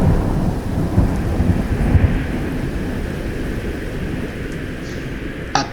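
A thunderstorm rolls with continuous low, rumbling thunder and a steady wash of rain, loud and sustained throughout with no voices.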